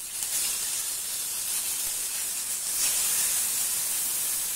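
Tomatoes cooking in a pan over medium flame for chutney give off a steady, loud sizzle and hiss that swells slightly near the end, with no voices.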